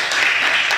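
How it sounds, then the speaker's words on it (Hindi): A church congregation claps during a Hindi-language Christian sermon, a brief burst of dense, bright applause heard close and fairly loud. "नए यादनामे के हीरो के लिए तालियां बजाने को दिल करता है"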